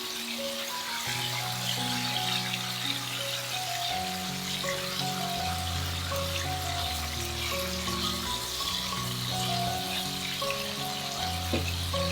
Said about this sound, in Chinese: 豆腐煎到两面金黄